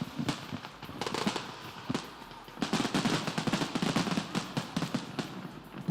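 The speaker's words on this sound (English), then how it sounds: "Put your hands together, Melbourne, for the City of Melbourne fireworks" City of Melbourne fireworks opening the Moomba Festival, a rapid barrage of loud cracking bursts and crackling pops in clustered volleys, with brief lulls between dense, gunfire-like rattles.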